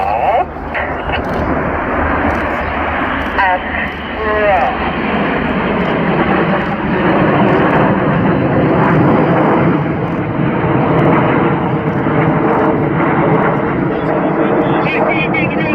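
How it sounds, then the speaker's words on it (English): RAF Typhoon fast jet flying a display at the Cosford airshow, a loud continuous roaring engine blast that fills the whole stretch, with a commentator talking over it through the public address. "from the right, this is Typhoon!"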